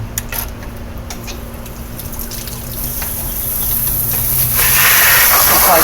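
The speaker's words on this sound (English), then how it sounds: "so we give it a quick rinse also." Water from a hose sprays over the filter holder of an Aquabot Junior pool cleaner, a hissing splash that builds from faint trickling to a steady close rush.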